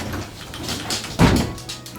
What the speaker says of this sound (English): That dog's breaking down the door.